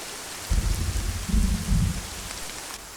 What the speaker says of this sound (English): We got light rain.